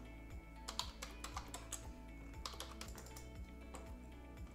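Quick, light clicking of fingers typing on a computer keyboard, an uneven run of close keystrokes over a faint steady hum.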